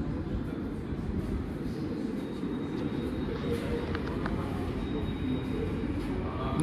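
A Moscow metro train on the Butovskaya line produces a steady broadband rumble and rolling noise, continuous and fairly constant, with faint scattered clicks above it.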